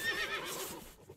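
A horse neighs in the video game Above Snakes, a faint, wavering whinny with soft game ambience and possible hoof clatter beneath it.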